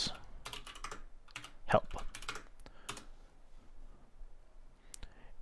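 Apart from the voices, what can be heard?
typing a command on a computer keyboard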